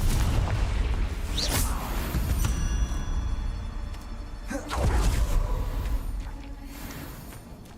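Spell blasts in the Hogwarts Legacy video game: heavy booming explosions with loud broadband bursts, two prominent blasts standing out over a continuous dense roar of in-game effects.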